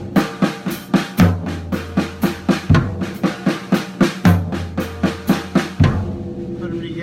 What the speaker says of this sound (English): And then on the 6/8, I'm throwing in a paradiddle-diddle.